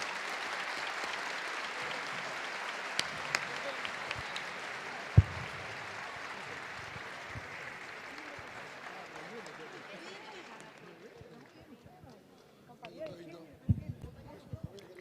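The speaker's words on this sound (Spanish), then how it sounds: "renovamos el aplauso para recibir a Agustín" Sustained applause from an audience at a public forum in Entre Ríos welcoming a guest speaker, steady clapping that gradually thins and fades out, with scattered claps and faint voices near the end.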